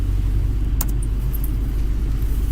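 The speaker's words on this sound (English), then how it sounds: "That truck sounds good." A snow plow truck's engine idles nearby, giving a steady, deep low rumble with a brief metallic clink partway through.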